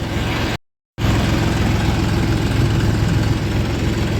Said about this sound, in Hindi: खाली ट्रैक्टर निकल रहे हैं जी